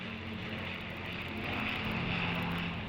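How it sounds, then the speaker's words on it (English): A large flypast of 40 RAF planes over London for the Queen's birthday Trooping the Colour: a steady, loud roar of propeller and engine drone that builds gradually, with no voices. "This is followed by a large flypast of 40 RAF planes"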